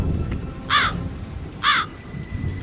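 Two loud crow caws, evenly spaced about a second apart, over a steady rumble of rain and storm noise.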